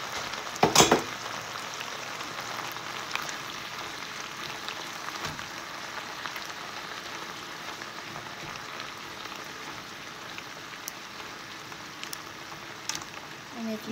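Pre-cooked beef fries with kale flower and white chard in a gentle, continuous sizzle, with a brief clatter of utensils at the start and a few faint ticks later.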